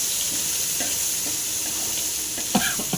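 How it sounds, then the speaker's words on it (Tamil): Greens chutney stirred into a hot mustard seed tempering in a pan gives a steady, close sizzle throughout, with spoon scrapes and clinks toward the end. "இப்போ வந்து நம்ம கீரை துவையில் ஊற்றிடலாம். ஊற்றியாச்சு, நல்லா கலக்கலாம்."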